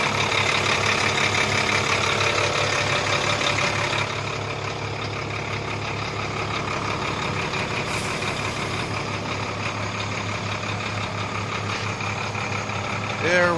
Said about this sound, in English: This is a 371 horsepower engine. New engine, listen to the sound.